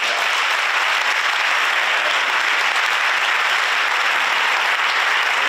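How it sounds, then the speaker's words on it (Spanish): A crowd at a mayoral candidacy presentation in Gádor breaks into sustained, dense applause, loud and unbroken across several seconds with no speech above it. "yo quiero pedir un aplauso para los colores"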